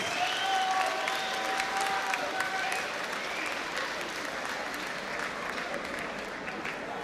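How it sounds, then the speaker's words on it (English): A boxing crowd applauds after the Ian Napa versus Lee Haskins fight, a sustained, even wash of clapping and crowd noise in a large arena, with faint voices underneath. "please join me in giving a big round of applause for the gallant effort"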